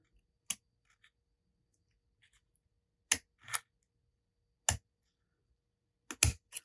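Scissors snip through snake skin along a marked line for a custom fishing rod inlay, a handful of crisp, separate cuts spaced irregularly against near silence, close and faint.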